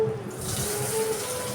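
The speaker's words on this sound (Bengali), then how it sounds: "বাসন মাজা হয়ে গেছে, শুধু ধোবো।" Tap water running steadily into a sink while dishes are rinsed, a close continuous splashing hiss with a faint ringing tone, short and even throughout.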